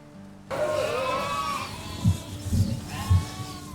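Several sheep bleat one after another on an Ontario sheep farm, overlapping calls close by, with low thumps and outdoor farm background.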